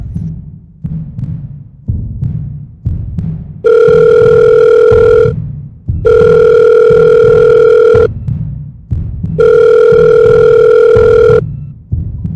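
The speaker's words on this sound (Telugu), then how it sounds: "ఫోన్ రింగ్ అవుతుంది కానీ లేపుతలేదు" An unanswered phone call rings through a handset: three long, steady electronic ringing tones separated by pauses, with a soft throbbing pulse running underneath the whole time and no one picking up.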